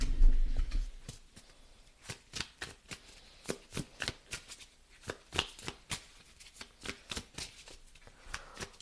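Oracle cards being shuffled by hand, a rhythmic series of crisp riffling snaps and flicks repeating about twice a second, close up, after a brief thump at the start, with no talk.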